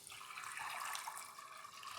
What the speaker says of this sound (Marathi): यामध्ये घालूया मीठ चवीपुरतं आणि पाणी